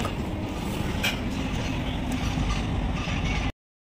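Steady loud rumble of a train running along a rail line right behind a house, broadband and continuous for a few seconds before cutting off abruptly, with no voices.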